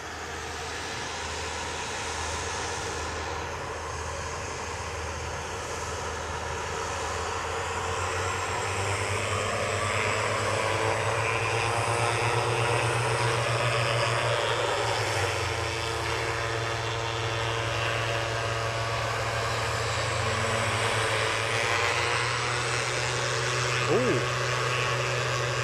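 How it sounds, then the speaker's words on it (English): A Dash 8 turboprop airliner lines up for departure on the runway at Aberdeen airport, its engines droning steadily and gradually building in loudness, heard from a distance with a low hum throughout. "we're going to go to the Dash 8 departure as it's lining up"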